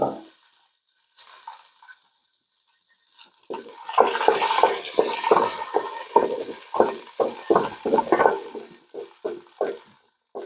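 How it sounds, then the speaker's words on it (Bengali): Almonds and raisins fry in a pan for pulao, a soft sizzle with a quick run of scraping stirring strokes building up near the middle, and no talking. "এগুলোকে আমি এখানে দিয়ে দিচ্ছি দিয়ে একটু ভেজে নেবো সামান্য"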